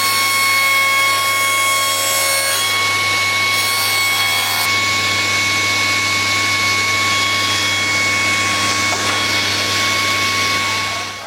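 A sliding table saw cuts a precise bevel in wood, running as a loud, steady whine with a constant motor drone throughout, its pitch shifting slightly as the blade bites the workpiece.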